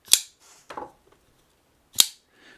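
A Shirogorov pocketknife flipped open and closed: two sharp, crisp metallic snaps with softer slides and clicks between them, close and isolated in a quiet room.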